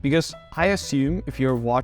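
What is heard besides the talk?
No everyday noises stand out.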